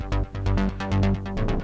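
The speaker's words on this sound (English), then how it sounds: "so I took the warm-up lows, the saturator here in Ableton Live, and it sounds like this on" Synth bass pushed through Ableton Live's saturator with warm low settings, a gritty, heavy pulsing line of thick repeated notes, loud and up front with no voices.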